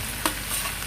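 Dry fish fries in a pan with potatoes for a curry, a dense close sizzle with one brief scrape of a spoon early on.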